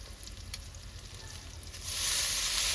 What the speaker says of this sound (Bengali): লঙ্কাটা ভাজা হয়ে গেছে, আমি এবার শাকটা দিয়ে দেবো।